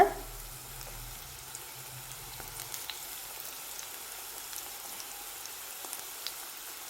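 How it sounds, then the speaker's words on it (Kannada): Onion pakoda frying in hot oil over a low flame, a faint, even, crackling hiss that continues steadily throughout with no voices. "ಇದಕ್ಕೆ ಈರುಳ್ಳಿ ಪಕೋಡನ ಬಿಟ್ಕೊಳ್ಳೋಣ"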